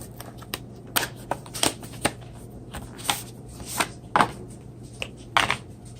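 Packaging for a Moto Folio Moto Mod being torn open by hand: a string of sharp, crinkly rips and tears in short irregular bursts, close and fairly quiet, with no talking.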